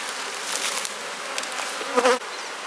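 Honey bees buzz around a beehive colony, a dense, close, continuous hum with individual bees droning past near the listener.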